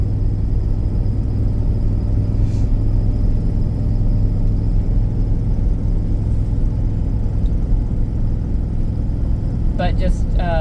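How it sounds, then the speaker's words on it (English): Steady low engine and exhaust drone inside a 2007 Lincoln Town Car limo while accelerating, a constant rumbling hum with road noise and a brief chirp near the end. "It accelerates well. You can hear a little bit of the exhaust, probably, you know, from the exhaust manifold."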